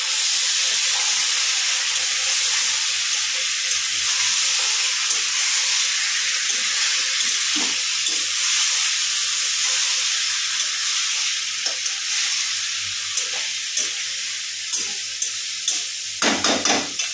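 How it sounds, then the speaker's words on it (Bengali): Mutton sizzles in a hot kadai with a loud, steady hiss that runs throughout, while scattered stirring clatters grow more frequent toward the end. "আমি মটন দিয়ে দিলাম কড়াইয়ে"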